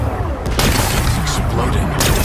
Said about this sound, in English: Gotta blast away some rocks, so I can expose the power cell.